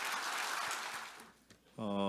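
An audience at a Democratic Party assembly of newly elected lawmakers gives a sustained, dense round of clapping that fades, then a loud voice starts over it.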